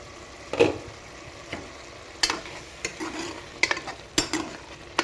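Egg biryani masala simmers in a pan, a quiet bubbling bed broken by several sharp scrapes and clinks of a spoon stirring, close and fairly soft with no talk.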